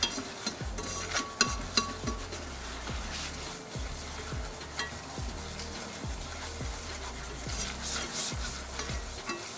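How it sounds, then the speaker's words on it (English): Butter and flour roux is whisked in a pan, a quick repeated rhythm of whisk strokes scraping the metal over a gentle bubbling sizzle, close and steady throughout with no talking. "Add in 2 tablespoons of butter, and now the flour. This is 1 tablespoon, and just whisk it together."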